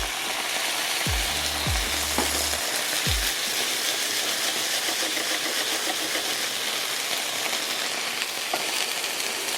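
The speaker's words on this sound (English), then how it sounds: "I'm gonna add a little bit of water. It's gonna help steam and cook these a little bit faster." Water poured into a hot pan of butter with vegetable stalks sets off a steady, loud sizzle and hiss of steam that runs throughout, with a few low clunks of the pan near the start.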